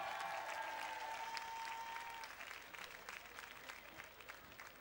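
Festival audience at Solidays applauding a graffiti artist painting a Nelson Mandela mural, a dense crowd of clapping that stays steady and then thins slightly, with a faint sustained tone fading out in the first half.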